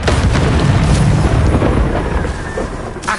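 Confringo blasting spell in the Hogwarts Legacy video game, a loud, dense, rumbling explosion with heavy low-end boom that holds and slowly fades over a few seconds.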